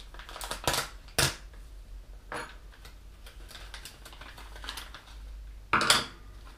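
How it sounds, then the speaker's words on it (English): Plastic packaging for an RPM replacement shock tower part for a Traxxas Rustler RC truck torn open by hand, several sharp crinkling rips and rustles close by, with quieter handling between bursts. "let's rip it open."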